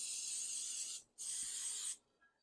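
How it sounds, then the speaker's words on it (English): Two steady, close bursts of cooking spray onto a baking pan, each about a second long, with a short pause between them. "So let's spray that all the way around, making sure we got all the nooks and crannies."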